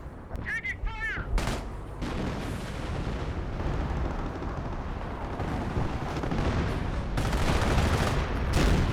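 Artillery barrage raining in during a Company of Heroes match: continuous heavy rumbling shell blasts and booms, loud and dense for the whole stretch, with brief whistling and talk near the start.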